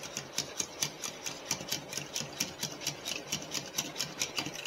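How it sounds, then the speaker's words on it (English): Ingredients whisked together in a bowl, including baking powder, for a mashed potato recipe, giving a steady rapid rhythmic clicking and scraping of the whisk against the bowl, close and fairly quiet, with no talking. "Now, I'm going to whisk this together."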